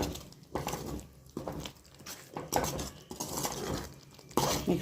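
A utensil stirring paneer bhurji in a pan with coriander leaves and kasuri methi, giving a quiet, rhythmic scrape and clatter of metal on metal that repeats in short strokes.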